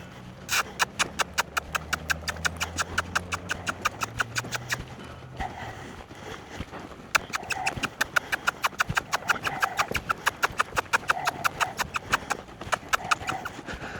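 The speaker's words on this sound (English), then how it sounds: "Let's see if we can catch a lope here on the right lead." A horse lopes on the right lead, its hoofbeats forming a steady, rhythmic three-beat clip-clop that carries on nearly throughout, with a brief pause midway and a few low snorts or breaths in between.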